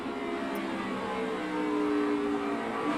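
A NASCAR race car's engine is heard under throttle control during a save, giving a steady mid-distance drone with faint rising whine, no voices.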